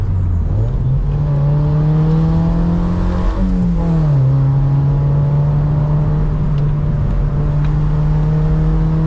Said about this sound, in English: it's a different sound to any car I've heard